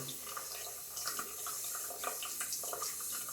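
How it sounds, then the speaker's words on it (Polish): Tap water runs to rinse soap off a shaving brush, a steady close splashing and trickling with small irregular spatters as the brush is worked under the stream, no voices. "Tak się spłukuje to mydło z blanku."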